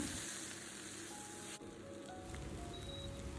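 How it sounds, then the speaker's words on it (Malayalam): Onions sautéing with salt in a pan for a restaurant-style vegetable kurma, giving a soft, continuous sizzle and hiss that stays even and fairly quiet throughout. "എന്നിട്ട് നന്നായിട്ടൊന്ന് വഴറ്റിയെടുക്കാം സവാളയൊക്കെ നല്ലപോലെ വഴണ്ട് വരണേ"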